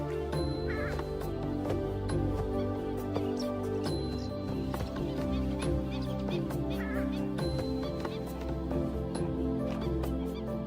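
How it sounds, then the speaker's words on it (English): Purple swamp hen, or sultana bird, in the wild giving loud harsh honking calls, repeated over a dense chorus of other birds, with a narrator speaking over it. "This is the purple swamp hen, also called the sultana bird, famed for its very loud, explosive call."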